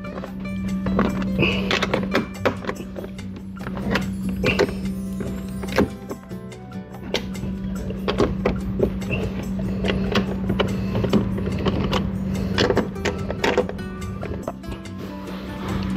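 Four screws being undone with a number 10 spanner on an Xmax scooter seat mount, giving a string of sharp metallic clicks and thunks over a steady low hum, close by and moderately loud.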